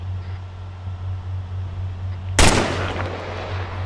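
Suppressive gunfire at an APC in a military video game: a single loud, sharp burst of shots partway through, followed by a decaying echo over a constant low engine hum.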